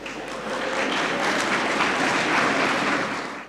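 Audience applause welcoming the chief guest at a conclave session, a steady wash of clapping that swells and holds for a few seconds before tapering off.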